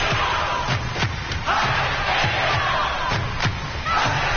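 A football crowd at a final roaring and cheering as the players run onto the ground, a dense continuous wash of crowd noise with occasional thumps.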